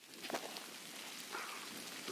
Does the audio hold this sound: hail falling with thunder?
yes